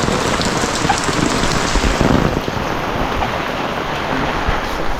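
Continuous heavy rain pours down by the sea, a full, rushing wash of drops that stays steady and loud throughout, causing flooding.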